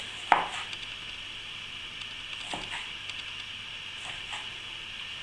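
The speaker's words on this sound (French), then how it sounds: "Pour les tomates, même principe, par contre on n'enlève pas la peau, on va essayer de faire des cubes." A knife cuts skin-on tomatoes into coarse cubes on a board, a few sharp isolated chops spaced out over a quiet kitchen background.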